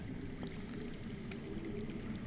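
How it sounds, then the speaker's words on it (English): Underground water flowing steadily in Game of Thrones Telltale, a continuous low rushing wash with a faint trickle on top that stays even throughout. "I hear water. From underground."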